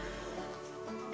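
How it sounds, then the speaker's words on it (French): A single short, sharp cough bursts out at the very end after a quiet stretch, close and abrupt. "c'est souvent ça moi quand je tousse"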